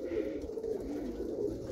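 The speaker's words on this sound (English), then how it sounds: "there's birds in there fluttering and whatnot" Pigeons coo softly in a loft with roller pigeons, a low steady murmur of calls close by, with faint rustling and no talk.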